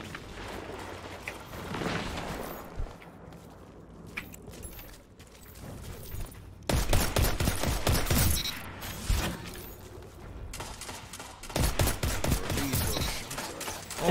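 Randy's Throwing Knife rifle fires rapidly in a video game, with quick bursts of sharp, closely spaced shots over a busy in-game background, louder in the later volleys.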